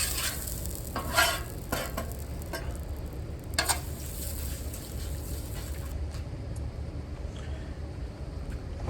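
Oil-coated steel surface of a Blackstone griddle, where food is cooked with avocado oil, gives off a steady low sizzle throughout, with a few brief scraping strokes of a spatula near the start and no speech.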